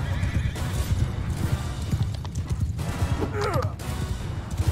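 Horses neigh and whinny amid clip-clopping hooves in a Mount & Blade 2: Bannerlord battle, with loud repeated calls over a steady rumble of hoofbeats and a brief rising whinny near the end.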